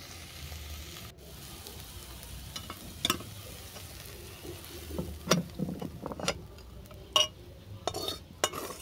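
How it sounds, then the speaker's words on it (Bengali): Piring flowers fry in a pan for a mashed bhorta, with soft sizzling under repeated scraping and stirring clinks of a spatula against the metal pan, irregular and close. "আরও কিছুক্ষণ আমি এটাকে ভেজে নেব।"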